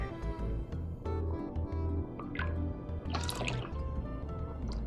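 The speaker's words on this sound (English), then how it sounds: "But you pour out all your buttermilk." Buttermilk poured out of heavy whipping cream churned into butter, a close liquid trickle and drip splashing into a container, steady throughout with a brief brighter splash near the end.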